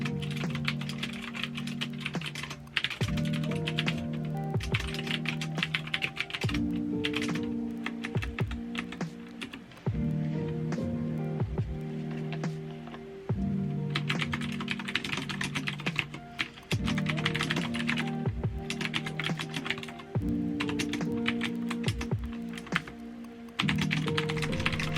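Steady, fast typing on a laptop or Neo 2 keyboard at a home desk, close and clear, continuing in bursts with brief pauses over soft background music.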